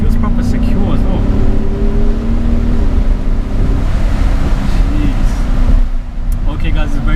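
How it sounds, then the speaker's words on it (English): A 2017 Audi SQ7 SUV's powerful engine roars steadily from inside the moving vehicle, loud and continuous, with a voice talking over it. "I don't know if you guys can hear the roaring as well."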